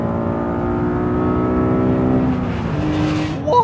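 A high-revving sports car engine climbing toward 8,000 RPM, its steady rising howl loud and close throughout, with a brief shift near the end.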